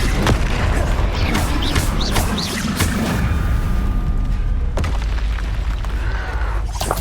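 Explosion spells cast in a wizarding video game set in the Harry Potter world boom and crash repeatedly over a loud, busy battle bed, with several sharp blasts and a heavy impact midway.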